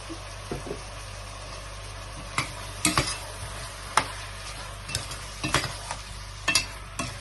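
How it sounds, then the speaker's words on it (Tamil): Chopped tomatoes and salt fry in a pan for prawn biryani, stirred with a spoon that gives sporadic scraping clicks over a soft, steady sizzle. "இப்போ தக்காளி ஆட் பண்ணலாம். தக்காளி, சால்ட்,"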